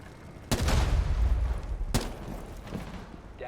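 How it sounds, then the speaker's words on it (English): A frag grenade blast in the Rainbow Six video game, a sudden loud boom with a rumbling tail, then a second sharp blast that fades into a lingering rumble, with no talk. "Throwing frag."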